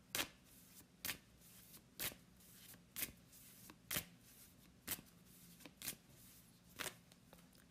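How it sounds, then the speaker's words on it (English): Cards being shuffled in a series of crisp riffles, roughly one burst per second, close up and alone against a faint low background hum. "I feel like giving this deck a shuffle now."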